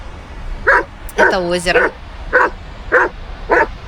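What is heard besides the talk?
dog barking near a lake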